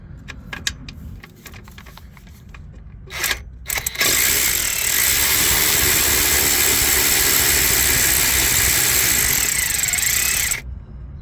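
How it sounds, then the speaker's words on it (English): On a 2005 Ford Econoline E350 Super Duty van engine, a tool removes a 10mm bolt from the transmission dipstick bracket: a few light metallic clicks, then a loud, close, continuous whirring rush lasting about six seconds before cutting off abruptly. "Also gonna go ahead and remove this 10mm bolt for this bracket that holds the transmission fluid dipstick."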